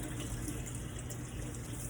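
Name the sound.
water rinsing Monat shampoo out of hair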